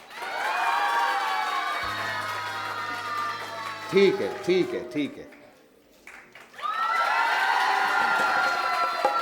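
Audience applause and cheering on a Sindhi-Hindi game show fill the clip as a loud, dense wash of clapping and shouts that breaks off briefly while someone speaks, then surges back strongly at the end.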